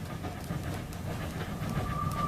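A train runs steadily in an audio drama scene, a continuous low rumble with faint rhythmic clatter and a thin high squeal rising near the end, with no voices over it.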